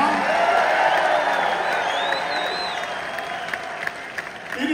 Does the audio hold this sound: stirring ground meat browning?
no